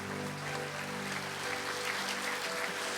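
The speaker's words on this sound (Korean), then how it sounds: "하나님의 사람에게 박수 좀 쳐주세요" Audience applause breaks out in a hall during a church festival service, a steady wash of many hands clapping at moderate distance, continuing without letup.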